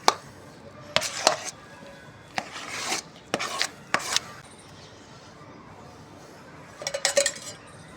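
Warm khichu dough being worked with oil in a pan, giving close scraping and knocking strokes in short bursts separated by quiet pauses.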